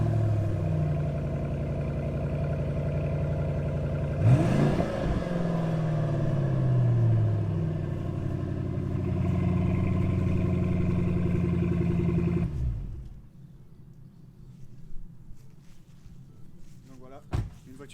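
An all-original Ford Mustang V8 with 82,000 km and no accident history idles with a steady, deep rumble for about twelve seconds before it shuts off, leaving quiet room noise and a few faint clicks.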